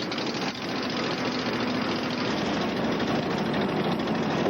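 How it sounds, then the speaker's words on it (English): A gas-powered, air-suspended hover bike engine runs with a loud, steady, rough drone and rattle, close and continuous from start to finish. "The hover bike is gas-powered, air-suspended, and ready to take on the dark side of the Force."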